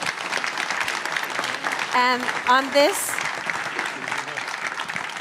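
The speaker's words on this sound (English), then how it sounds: "A big round of applause for our leaders." Audience applause after a CEO panel at a large tech event, steady crowd clapping throughout while a voice speaks briefly over it partway through.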